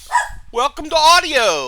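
A pet dog barks loudly and close by, with a short yip followed by a drawn-out, whining bark, while a voice speaks over it.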